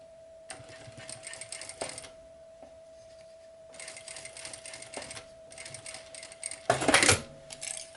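A domestic sewing machine stitches a rolltop backpack seam in several short, rapid mechanical bursts separated by pauses, close and fairly quiet, with a steady hum underneath.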